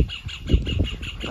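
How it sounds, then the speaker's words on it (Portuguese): A small bird chirps in a quick series of short, repeated calls at close range. "O passarinho tá alegre, ó."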